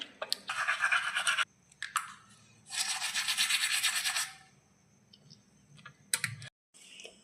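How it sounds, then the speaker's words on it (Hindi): A toothbrush scrubs teeth in two long, vigorous bursts of rapid back-and-forth strokes, close and bright, separated by quieter pauses with a few light clicks and no speech. "मैं ब्रश करने फटाक फटाक कर लेती हूँ"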